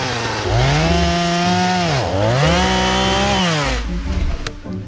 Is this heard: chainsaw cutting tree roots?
yes